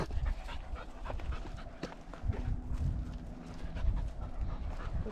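Dog panting outdoors beside the Klamath River at Topsy Campground, a steady close breathy rhythm over rustling ground noise and soft hoof-like footfalls.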